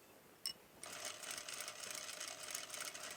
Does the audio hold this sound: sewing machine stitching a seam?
yes